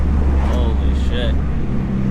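A 4-cylinder car with a 3.5-inch exhaust drives along, its loud, steady low engine and exhaust drone filling the cabin, with a voice speaking over it.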